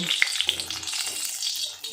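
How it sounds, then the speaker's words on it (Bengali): A young carp's head fries in a little oil, giving a steady close hiss and crackle with a few sharper pops throughout. "আমি এই জ্যান্ত একটা চারা পোনা এনেছি ভাজছি মাথাটাকে"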